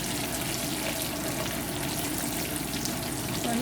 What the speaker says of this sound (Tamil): ஸ்பைசஸ் எல்லாம் கொஞ்சம் லைட் ப்ரௌனாக பொரிஞ்சு வர வேணும்.